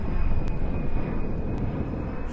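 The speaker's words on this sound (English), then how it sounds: "So we have a wave off. I think maybe the winds. That was interesting. So that was an aborted landing." An airliner aborting its landing and going around at Reagan National Airport, a loud, continuous jet engine roar with a steady whine, heard from the ground close by.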